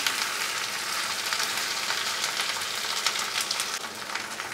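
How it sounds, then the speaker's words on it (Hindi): Potato and cauliflower pieces fry in oil over a medium flame, stirred now and then, making a steady, dense close-up sizzle like hard rain that holds at an even level throughout, with no voices. "तो आलू गोभी को हम बीच बीच में चलाते हुए फ्राई कर लेंगे।"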